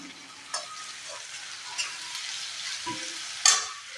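Julienned potatoes frying in a pan during a cooking session at a Bihu workshop crackle with a soft, continuous sizzle, broken by a few sharp scrapes and clinks of stirring.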